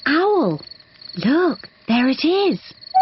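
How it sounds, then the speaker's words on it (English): Cartoon crickets chirp in a series of short, rising-and-falling bursts at night, with a voice exclaiming briefly among them. "That is the sound of crickets chirping."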